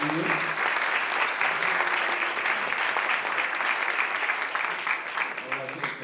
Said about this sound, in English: Let's give a round of applause to the View.